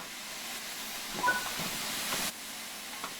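Steam hisses from a locomotive's open cylinder cocks in the Train Sim World 5 game: a steady, fairly faint broadband rush that swells slightly midway and drops off abruptly near the end, with no voices.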